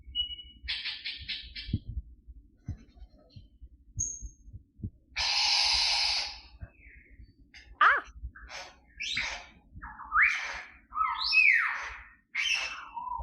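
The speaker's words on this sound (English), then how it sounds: "That's like a whole forest of birds right there." Recorded bird song played back, a varied run of squawks, chirps and whistled phrases with short gaps between them, fairly loud and close, with no talking over it.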